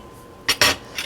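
A spoon stirring French onion soup in a pot, heard as two sharp metal clinks against the pot in quick succession, followed by a few lighter taps close by.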